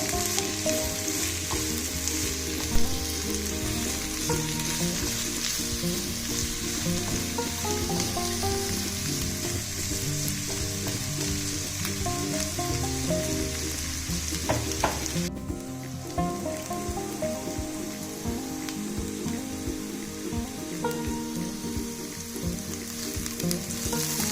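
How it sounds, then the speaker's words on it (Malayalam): Onions sizzle steadily in hot oil as they fry toward golden for a simple soybean curry, a continuous close hiss running the whole stretch beneath soft background music with no talking. "ഒത്തിരി അങ്ങ് വറുത്ത് പോവണ്ട, ഒരു ചെറിയ ഗോൾഡൻ കളർ ആവണം"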